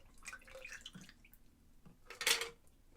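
A cocktail called the Shorn is strained into a prepared glass, with a few faint clinks and trickles early on and then a brief, louder splashing pour near the end.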